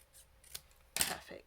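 Scissors trimming paper for a handmade card, a couple of quick close snips about half a second apart, faint and alone.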